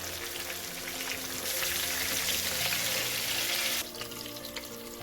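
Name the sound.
tomatoes frying in oil on high flame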